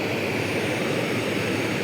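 A Jetboil camping stove burner boiling water, a steady, close, continuous roaring hiss like a small jet, unbroken and evenly loud throughout with no voices.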